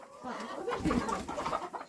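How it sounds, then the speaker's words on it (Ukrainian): Large hen clucking in repeated short calls to her chicks, close and fairly steady through the stretch, with a faint voice briefly in the background. "О, вже кличе, кличе. Така дуже велика курочка."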